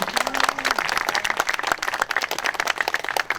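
Audience applause at a memorial ceremony for the 45th anniversary of the May 18 uprising, a dense, steady clapping crowd that is loud and close, with a faint voice briefly audible early on.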